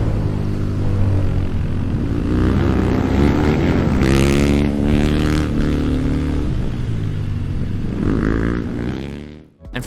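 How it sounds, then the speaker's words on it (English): An AI-generated motorcycle engine roars steadily as a rider races across a desert canyon, loud and close with shifting revs for nearly ten seconds before cutting off abruptly at the end. "it even added its own engine sound and some camera movement"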